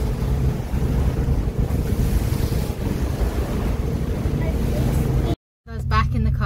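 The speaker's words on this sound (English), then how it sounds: "Look at the waves splashing up, it's pretty cool." Constant roar of waves splashing up on the shore at Millport, Isle of Great Cumbrae, Scotland, and wind buffeting the microphone, loud and close, with a brief dropout near the end.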